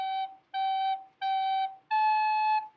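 A recorder plays the opening of Au Claire de la Lune: four clean, separated notes, three repeated G's followed by a slightly higher, longer A, clear and close with no talk.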